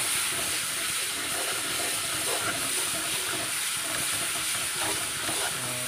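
Desi chicken with taro and spices stirred and fried in a pot gives a steady, close hiss of frying with faint scraping from the stirring, continuous with no talk.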